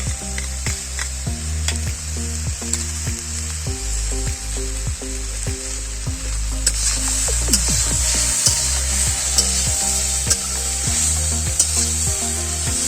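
Drumsticks fry in a pan with grated onion and green chili paste, giving a loud, steady sizzle with intermittent clinking stir strokes, close up and without speech.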